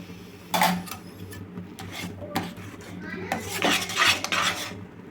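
A spoon scrapes and clinks against a pan while stirring a thick sweet mixture with ghee, giving irregular metallic scraping strokes, some louder bursts and a faint hum beneath.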